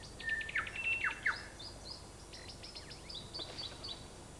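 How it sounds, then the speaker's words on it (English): A New Zealand bellbird sings clear, ringing, bell-like notes, first a few pure whistled tones, then a quicker run of fainter chiming phrases. "the bellbird, said to have the most beautiful song of any bird in these islands"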